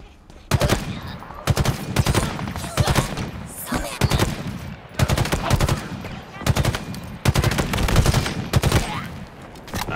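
Assault rifle gunfire in Halo Infinite's campaign, loud close bursts of rapid automatic fire repeating in several strings with short pauses between them.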